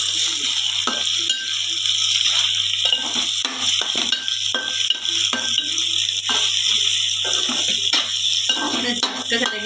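A spoon scrapes and stirs tomato egg curry in a pan, repeated close clinks and scrapes in an uneven rhythm over a steady hiss, with a low hum underneath throughout.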